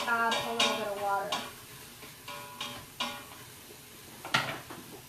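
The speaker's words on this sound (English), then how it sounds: "it's just kind of sizzling back here. It's starting to saute those foods." Potatoes and vegetables sauteing in a pan give a low sizzle under repeated scraping and stirring clinks of a utensil against the pan, in several irregular bursts at close range.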